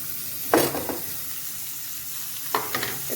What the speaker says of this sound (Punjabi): ਇਸ ਨੂੰ ਆਪਾਂ ਚੰਗੀ ਤਰ੍ਹਾਂ ਭੁੰਨ ਲਵਾਂਗੇ